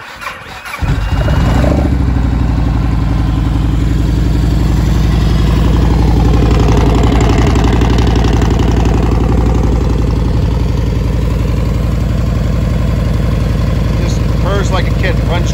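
A 2002 Yamaha Warrior ATV engine cranks briefly and catches, then settles into a loud, steady single-cylinder idle close by for the rest of the clip, with a slight change in pitch partway and some speech-like sound under it.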